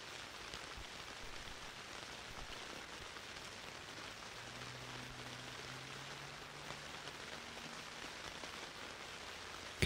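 Gentle rain falls steadily, a soft, even patter spread across the whole stretch with a faint low hum underneath and a sharper knock at the very end; no one speaks.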